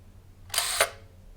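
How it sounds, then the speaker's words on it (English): A Horizont panorama camera fires its shutter: a single brisk mechanical whir of the rotating lens sweeping across the drum, lasting about a third of a second and ending in a sharp click, close and alone against a quiet room. "And then when you push the shutter,"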